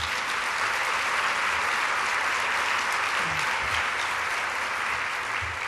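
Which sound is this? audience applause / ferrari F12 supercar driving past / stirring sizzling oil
audience applause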